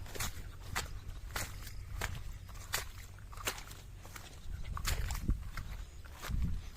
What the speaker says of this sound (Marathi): आता एवढा चिखल आहे गाईस. चिखलातून चाललोय असं.